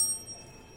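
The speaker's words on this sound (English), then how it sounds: "The bob of this bell, when strikes, it produces sound like this." A small metal bell is struck by its bob and rings on as a faint, steady tone that holds quietly with no other sound.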